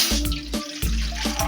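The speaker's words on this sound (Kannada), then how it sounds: "ಇನ್ನೊಂದು ಪಾತ್ರೆಯಲ್ಲಿ ಮ್ಯಾಗಿ ಮಾಡೋದಕ್ಕೆ ನೀರು ಹಾಕತ್ತಿದ್ದೀನಿ." Water splashes and gurgles into a cooking pot for Maggi noodles, several short pours close up with no voices.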